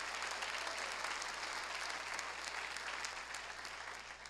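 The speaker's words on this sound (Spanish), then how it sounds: "Gracias por ese aplauso, yo me uno también." Steady applause from a large church congregation, a dense continuous patter of clapping that holds evenly throughout.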